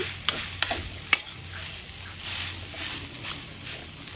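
Garlic sizzling in a pan while being stirred into rice, a steady frying hiss with a few sharp scraping knocks of the utensil near the start.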